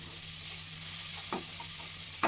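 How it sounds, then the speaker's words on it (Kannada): Onion and green chilli fry in a pan for flattened rice, giving a continuous soft sizzle with a couple of brief scraping stirs of a spatula near the end. "ಈರುಳ್ಳಿ ಹಸಿಮೆಣಸಿನ್ಕಾಯಿ ಎಲ್ಲನೂ ಹಾಕಿ ಈ ರೀತಿ ಚೆನ್ನಾಗಿ ಫ್ರೈ ಮಾಡಿ"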